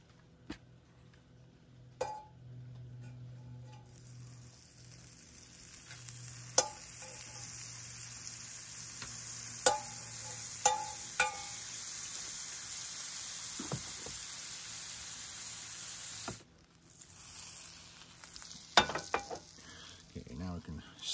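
Butter sizzling in a pan on a camp stove, a steady soft frying hiss with occasional clinks of utensils against the pan, fairly quiet and close.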